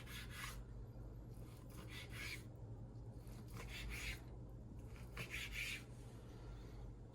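A sushi knife saws through fish for fillets in repeated rasping strokes, faint and close, over a low steady hum, without speech.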